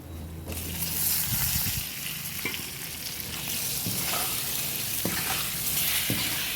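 Steady, loud sizzling of mango pieces frying in hot oil, with occasional stirring clatters and a burst of sputtering as pieces drop into the pan.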